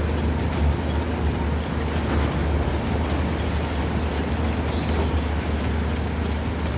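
A train locomotive engine running in the video game Uncharted: The Lost Legacy, a loud continuous rumbling roar with a heavy low drone and rattling clatter, steady and close throughout.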